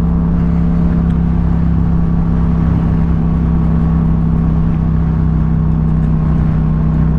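Steady engine drone and exhaust of a Yamaha MT-07 motorcycle ridden off-road near Navajo Lake, New Mexico, a continuous loud low hum with constant rumble and no talk.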